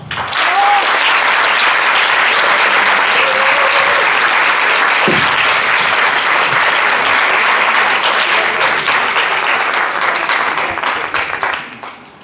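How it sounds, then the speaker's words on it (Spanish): A conference audience at a district mathematics education gathering bursts into loud, sustained applause, dense and continuous for about eleven seconds before tapering off at the end. "un gran aplauso"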